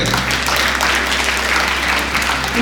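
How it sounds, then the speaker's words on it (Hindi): Loud, dense applause from a school audience for class 10 toppers, with many hands clapping steadily and close throughout and no pause. "तीनों ही वर्षिकाओं के लिए एक बार जोरदार तालियां दें।"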